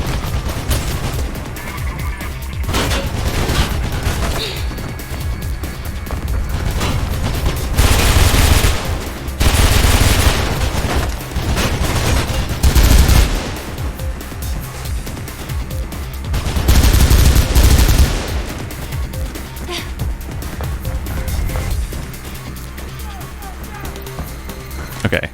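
Rapid gunfire bursts ring out in the video game Mirror's Edge, loud sustained volleys with sharper peaks, mixed under game sounds and someone talking throughout.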